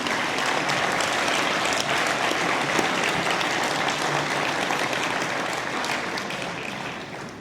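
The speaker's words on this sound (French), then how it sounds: "Un autre bonne main d'applaudissements aux partenaires." An audience at an agricultural hall of fame ceremony in Quebec applauds with sustained, dense clapping that holds steady throughout and tapers slightly at the end.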